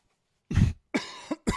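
A person coughs three times in close succession, loud and near, each burst sharp and breathy with brief gaps between, no talking around them.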